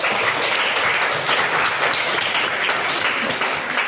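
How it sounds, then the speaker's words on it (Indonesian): A high school class of grade 12 science students applauds together, a steady dense patter of many hands clapping close by and filling the whole moment without any voices. "Ayo tepuk tangan dulu."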